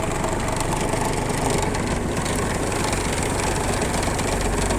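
A three-cylinder four-wheel-drive mini tractor engine runs steadily and fairly loud throughout, a continuous low rumble with knocking texture and no talk.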